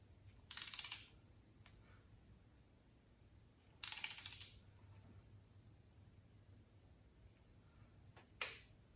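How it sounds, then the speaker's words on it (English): A torque wrench ratchets while tightening a spark plug on an NA Mazda Miata: two short bursts of rapid clicking, close and clear, then a single sharp click as the wrench releases at the set torque. "And now we're just gonna go ahead and tighten up until it pops."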